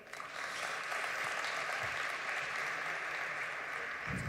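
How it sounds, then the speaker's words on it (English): An audience at an AI summit plenary session applauds a speaker, a dense, steady clapping that carries through the whole stretch at moderate loudness with no speech over it. "Can we have another huge round of applause for Dr. Merritt Moore?"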